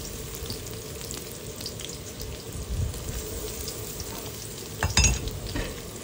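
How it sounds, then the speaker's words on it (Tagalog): Chopped onion goes into a pan of cooked garlic and sautés with a low steady sizzle, with a couple of louder clatters and stirring bumps near the end. "Pag luto na yung bawang, ay isusunod na natin yung ating sibuyas."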